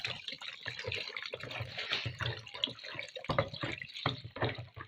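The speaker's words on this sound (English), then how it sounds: "I'm adding 2 liters of methanol." Two liters of methanol pour into a hand sanitizer gel mixture, giving a steady splashing, trickling liquid sound throughout with brief dips and bursts, close to the microphone and without talk.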